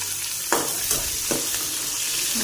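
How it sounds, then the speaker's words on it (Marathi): Onion and garlic frying in a pan on low heat, a steady close sizzle with a few brief stirring scrapes breaking through, no voices. "लसण थोडासा असा लाल लाल झाला की त्यात टाकायचा कांदा, थोडं परतून घेऊया"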